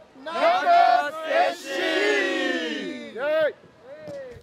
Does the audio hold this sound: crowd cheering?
yes